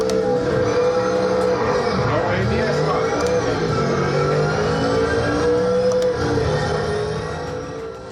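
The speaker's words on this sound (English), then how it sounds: "A classic 70s racing car with an aluminum monocoque and Chevrolet V8." A 1970s racing car with an aluminum monocoque and Chevrolet V8 engine in Project Motor Racing, its loud steady engine drone shifting pitch through gear changes and revs, fading slightly at the end.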